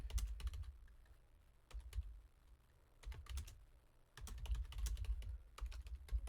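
Typing on a computer keyboard comes as quiet, close clusters of rapid key clicks in irregular bursts separated by brief pauses, with no talk.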